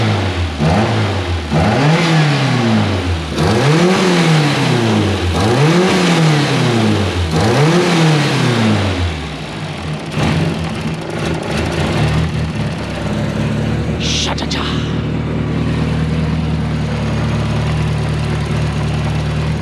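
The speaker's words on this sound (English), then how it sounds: "Get a couple of revs." A car engine fitted with a freshly repaired aluminium boost pipe revs repeatedly in several rising-and-falling blips, then settles into a steady, loud idle up close, with a brief clatter near the end.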